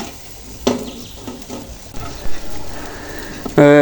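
A mash of dried mola fish is stirred in mustard oil in a pan: soft frying crackle under scattered scrapes and knocks of the spoon, with a brief voice-like tone at the very end.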